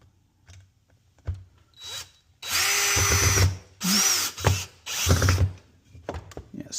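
A power drill driving screws into pocket holes cut with a Harbor Freight pocket hole jig, in several loud whirring bursts separated by short pauses and light handling clicks.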